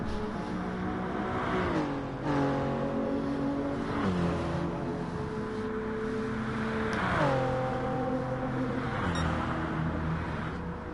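A Toyota Gr3 race car engine in a racing video game at Monza, revving hard through repeated gear shifts and climbing pitch, loud and continuous with no talk.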